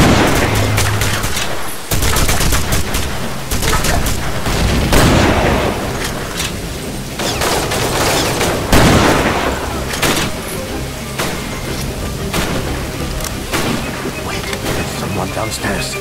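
Gunfire in the Commandos Strike Force video game, in mission 12, An Eye For An Eye: loud, rapid bursts of shots and bangs go on for the whole stretch, with brief dips, thick and close throughout.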